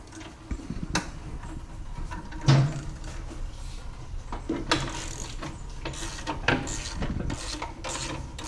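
An adjustable wrench working a nut and washer loose on a Dyna motorcycle, with scattered metallic clicks, scrapes and ratcheting rubs at close range, irregular and fairly quiet, with no talk.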